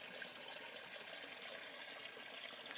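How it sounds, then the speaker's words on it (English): A small creek trickles faintly beneath a layer of leaves along a wooded trail, giving a soft, steady hiss of running water with no voices. "And here is a little creek"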